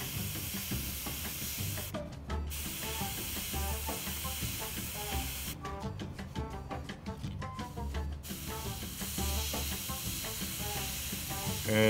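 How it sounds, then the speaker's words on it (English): A model-painting airbrush sprays paint at 10 to 15 PSI onto a 15mm Jagdpanther tank miniature, giving a steady, close hiss that runs almost the whole time with a few brief breaks. "We're spraying between 10 and 15 PSI."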